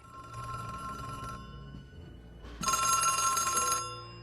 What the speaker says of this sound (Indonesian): Namun tiba-tiba, sebuah telepon berdering.